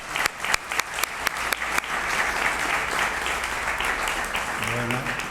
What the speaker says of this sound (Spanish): te damos este aplauso para que empieces con fuerza y ánimo